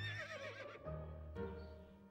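A horse in the video game To The Moon whinnies, a faint, wavering neigh with a shaky pitch, followed by softer snorting and low tonal game sound.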